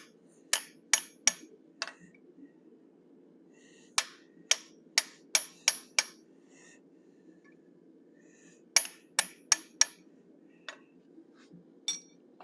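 A blacksmith strikes a side set with a hammer to sharpen the nose of a forged animal head, giving close, sharp ringing blows in quick bursts of three to five, separated by pauses over a low steady hum.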